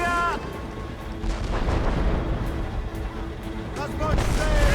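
Enemy ships firing cannons at the player's vessel during an Assassin's Creed Rogue naval battle, rumbling booms layered under shouting crew voices.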